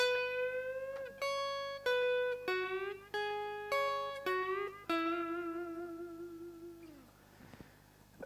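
Electric guitar lick, a series of plucked notes with string bends ending in a long, slowly released bend that fades out, played alone and up close.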